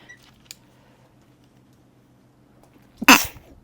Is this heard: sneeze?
yes